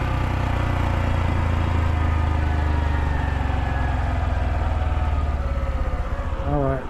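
A Honda Dax mini moto engine labors up a hill in first gear, a loud, steady low-pitched drone with rising harmonics that shifts pitch near the end.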